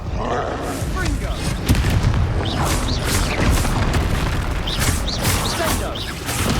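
Confringo spell blasts in Hogwarts Legacy battle, repeated loud booms and crackling bursts over a thick rumbling game soundscape, with voices calling out amid the fighting.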